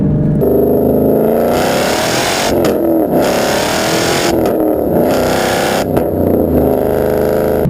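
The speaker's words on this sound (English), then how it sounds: "And there is the acceleration." A 2013 Ford Mustang GT carrying a Bama performance tune accelerates hard, its V8 engine roaring loud and close and rising through the gears in several long pulls, with brief dips between them.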